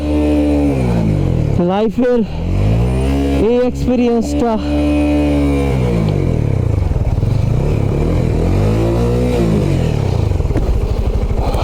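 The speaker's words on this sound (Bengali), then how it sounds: "বাইক সাইলেন্সারের ভিতরে পানি ঢুকে আর বাইক আগাচ্ছে না" A Honda CBR motorcycle with water inside its silencer revs in repeated rising and falling surges, loud and close, while someone talks over the engine.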